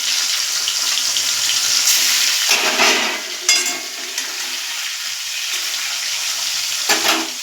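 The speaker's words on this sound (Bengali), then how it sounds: "এটা ঢাকা দিয়ে ভাজছি" Rohu fish, rubbed with salt, turmeric and pepper, fries in a wok under a lid with a loud steady sizzle, broken by a few sharper crackles and the clatter of the pan.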